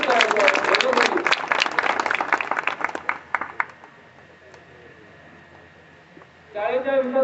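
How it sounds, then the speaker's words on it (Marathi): Audience clapping to welcome a former teacher at a village school's jubilee inauguration ceremony, a dense burst of many hands that thins into scattered claps and dies away to a quiet hum before a voice starts speaking. "सर्वांनी टाळ्या वाजवून स्वागत करायचं."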